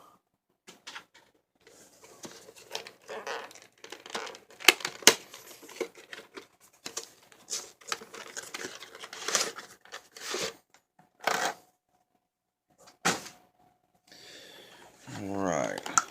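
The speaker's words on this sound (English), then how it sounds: "Let's go ahead here and rip the back of this thing off." Plastic clicks, snaps and scraping as the back cover of an Alcatel Dawn budget phone is pried off by hand, a series of sharp, close, irregular cracks with pauses between them.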